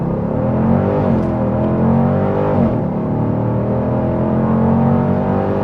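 A 2025 Dodge Durango SUV accelerates hard from a standstill, its engine producing a loud, sustained roar with rising harmonic tones throughout, close up with no talking.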